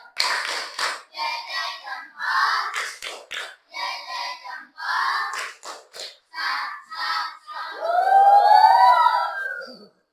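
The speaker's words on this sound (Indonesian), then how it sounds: "Ice breakingnya tepuk salut untuk kita semua hari ini" A class does a tepuk salut clapping routine as an icebreaker, rhythmic groups of claps in short bursts alternating with chanted voices, ending in a longer, drawn-out call.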